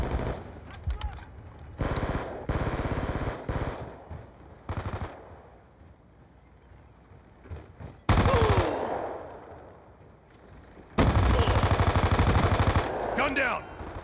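Machine gun fire in the Black Ops II video game comes in several loud bursts of rapid shots, separated by quieter stretches of game sound, with one long sustained volley near the end.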